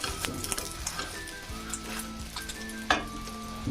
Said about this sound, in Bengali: এভাবে আমি ডিমটা ভেজে নিচ্ছি একটু কড়া করে